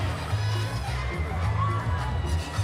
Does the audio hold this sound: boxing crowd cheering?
yes